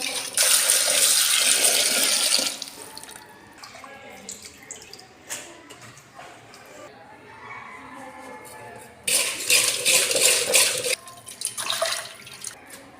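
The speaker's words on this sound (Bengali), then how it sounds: "এখন সুন্দর করে ধুয়ে নিতেছি ভালোভাবে, কুইতে নিতেছি যেন ময়লা যেন বাড়ি হয়ে যায়।" Small fish, freshly cut, being rinsed under running water on a rooftop, with bursts of loud splashing and tap flow at the start and again near the end, quieter dripping and handling sounds between.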